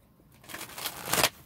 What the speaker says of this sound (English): I'm going to shuffle uh, two more times.